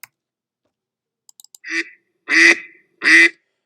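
Three loud duck quacks in a row, sharp and nasal, with a few small clicks just before them and silence between.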